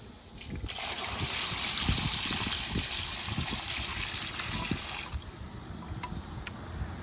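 A couple gallons of water from a bucket poured fairly fast into a small gutter-fed French drain of rock, giving a steady close rushing trickle that runs for about five seconds and then eases off.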